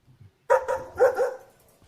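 A person on a call-in show barks twice in imitation of a dog, two short, loud voiced barks close to the microphone with nothing else around them.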